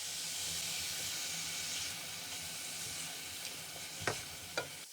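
Onions and garlic ginger paste sizzle steadily in a pan with a constant hiss, broken near the end by a few sharp scrapes and clinks of a stirring spoon.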